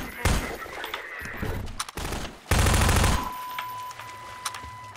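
Loud bursts of heavy gunfire from a larger weapon in the video game Half-Life 2, with a couple of separate shots and then a sustained rapid volley near the middle, followed by ringing and quieter game ambience.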